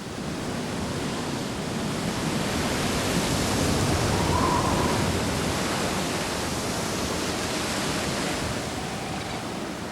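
Big ocean waves driven by strong westerly winds roar as a continuous, loud broadband wash of surf with wind, steady throughout with no voices.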